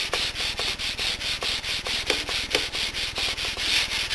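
Steady back-and-forth hand sanding with 320 grit sandpaper on an electric guitar, a rhythmic rasping scrub repeating about every half second, close and continuous with no talking.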